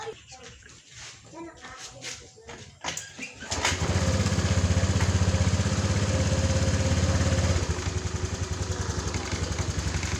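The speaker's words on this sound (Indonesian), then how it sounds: "Saya akan melakukan pengengkolan." A Honda Vario 150 scooter with a weak battery and low power is kick-started: a few scrapes and thumps, then the engine catches and idles loudly and steadily up close.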